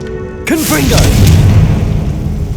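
A Confringo blasting spell goes off in Hogwarts Legacy with a sudden loud boom at about half a second, followed by a rumbling, crackling tail that lingers to the end.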